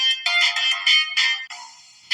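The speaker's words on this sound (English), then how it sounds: "you can hear the chaos in his home. You hear Barty cooing on the other end of the line and the sound of an alarm ringing from further away" An alarm rings from the Choices video game, sounding as repeated bright electronic bursts in short pulses with brief gaps, fairly loud and alone.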